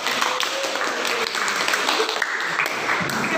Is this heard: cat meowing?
no